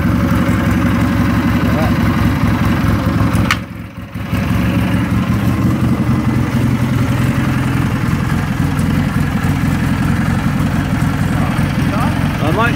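A 1963 BSA A10 Super Rocket 650cc motorcycle engine runs loud and near, a steady throbbing idle that briefly dips before carrying on, with voices talking over it.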